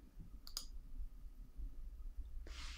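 A computer mouse clicks a couple of times in quick succession near the start, close and crisp, followed by a soft brush of noise toward the end in an otherwise quiet room.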